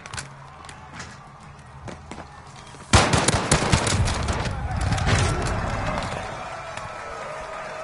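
A fire shotgun blasts in Modern Warfare Warzone with one sudden, loud boom, followed by rattling gunfire and movement noise that gradually fades.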